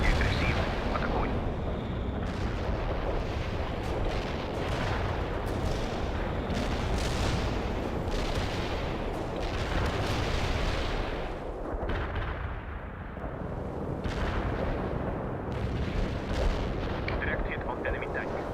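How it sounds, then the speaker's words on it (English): Artillery barrage in the strategy game World in Conflict: a dense, continuous run of booming explosions and rumbling blasts, with radio-style voices talking over the bombardment. "Romanov will aid you with artillery fire"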